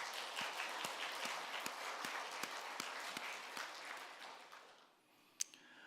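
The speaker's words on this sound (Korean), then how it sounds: "우리 찬양대의 감사와 하나님께 영광의 박수 올려드리겠습니다." A church congregation claps for the choir after its hymn, a soft rhythmic applause with evenly spaced beats that tapers off into quiet, followed by one last isolated sharp knock.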